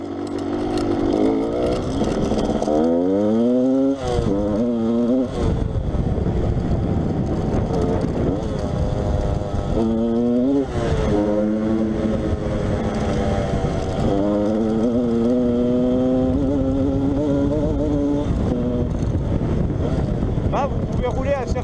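A 125cc Yamaha DTR dirt bike engine revving up and down as it rides along trails, loud and close, with rising and falling pitch as it shifts through gears.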